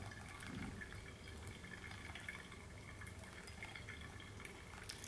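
Hot water poured steadily into a coffee filter during a coffee tasting, a continuous soft liquid trickle and splash heard close up throughout with no talk.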